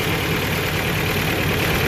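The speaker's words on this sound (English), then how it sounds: "But that's it idling. Well, somewhat idling anyway." A Toyota engine with a new timing chain and water pump idles roughly, a loud, continuous low rumble with an uneven texture, close to the listener.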